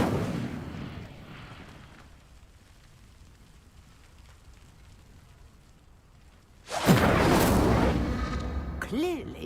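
Incendio fire spell from Hogwarts Legacy lighting pyres: a quiet, hushed ambience gives way to a sudden loud, roaring burst of flame that keeps whooshing to the end, with a rising magical shimmer on top.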